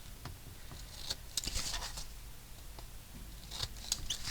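Faint, quick snipping of scissors cutting paper, a few scattered cuts in a quiet room with light rustling.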